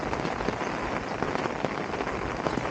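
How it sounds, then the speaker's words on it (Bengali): Heavy monsoon rain pours steadily near Batasia Loop in Darjeeling, a dense, even hiss of drops hitting surfaces close by with no break and no voices. "খুব বৃষ্টি হচ্ছে"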